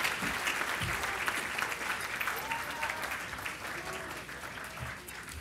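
Sustained applause from an audience at a design awards ceremony, welcoming fashion designer Gilles Mendel to the stage; steady dense clapping throughout, with a few faint voices mixed in.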